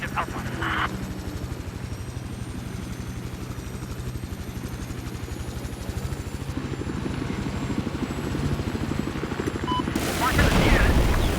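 Battlefield 4 helicopter flying in-game, a steady rotor and engine drone running throughout with a louder burst near the end, people's voices mixed in over it.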